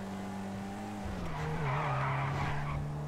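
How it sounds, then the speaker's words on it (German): A car in the video game GTA 5 Online skids, giving a loud, sustained tire squeal over a droning engine that shifts in pitch partway through, with no voices over it. "das Auto rutscht hier"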